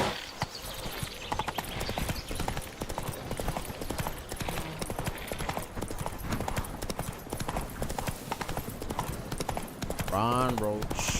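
Roach, Geralt's horse in The Witcher 3 Wild Hunt's Blood and Wine expansion, gallops in a steady rapid clip-clop of hooves, loud and close, with a neigh near the end under game sound and someone talking.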